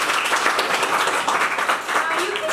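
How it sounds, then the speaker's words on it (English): A classroom of children claps to welcome a new classmate, with steady, fairly loud clapping throughout and voices mixed in. "So please welcome her by clapping."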